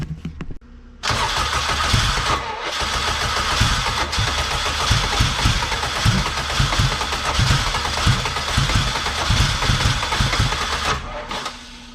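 A built K24 engine swapped into an all-wheel-drive Honda Civic cranks steadily on its starter without catching, a loud continuous whirring churn that runs almost the whole stretch after a short quiet start and cuts off near the end.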